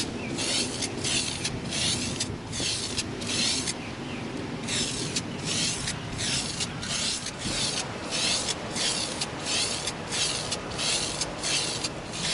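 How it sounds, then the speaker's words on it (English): Spray paint hissing in repeated short bursts onto an EVA foam prop gun, coating it with flat antique nickel; close and steady, with no talk. "we're gonna begin spraying our Squareness gun with our flat antique nickel"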